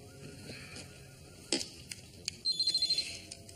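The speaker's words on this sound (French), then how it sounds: "Michael, je t'avais dit d'éteindre ton téléphone." A telephone gives a short burst of electronic ringing pulses in a quiet indoor scene, preceded by a few faint clicks and knocks, with no talking.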